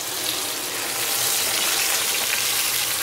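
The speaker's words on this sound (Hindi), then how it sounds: "ये मैंने सरसों, मेथी, सौंफ, खीरा और मिर्च को इसमें डाल लिया है और इसे हम सूखा ही भून लेंगे" Mustard, fenugreek, fennel seeds and dried chillies dry-roasting in a pan for raw mango khatti meethi, a steady, close hiss of crackling seeds that holds evenly throughout with no voices.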